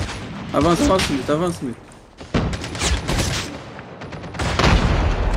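Rapid bursts of gunfire in a Call of Duty: Mobile battle royale match crackle loudly, with a few sharp shots cutting through while someone talks over the action.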